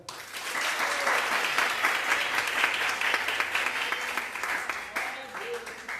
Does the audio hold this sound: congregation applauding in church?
yes